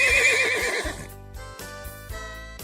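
A cartoon horse gives one loud, quavering neigh up front, followed by a few bright musical tones and light clip-clop-like knocks that fade out.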